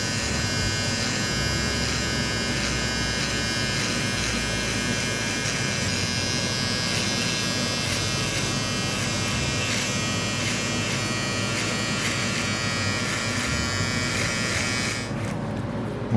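Electric hair clippers buzz continuously up close while fading hair on a skin fade, a steady motor drone with a slight shift in tone near the end.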